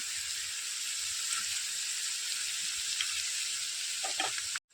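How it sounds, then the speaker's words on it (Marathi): Onions sizzle in a pan with turmeric during village-style cooking of raw papaya vegetable. The frying hiss stays steady and close throughout, then cuts off abruptly near the end. "कांदे पटकन भाजले जातात"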